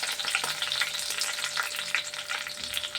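Curry leaves hit hot oil in a pan and fry on low heat, crackling and sizzling densely with sharp pops throughout, close and steady, no voices.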